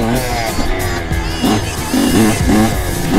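A dirt bike engine revved with far too much throttle, rough loud bursts of revving that rise and fall in quick surges, close by, with a brief shout over it.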